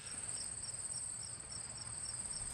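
Crickets chirp as a comedic sound effect on a live talk show, a fast, steady, high trilling pulse, fairly faint and continuous, with no voices over it.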